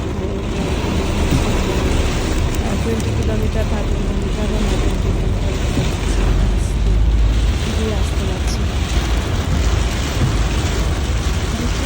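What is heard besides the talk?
heavy rain on car driving on highway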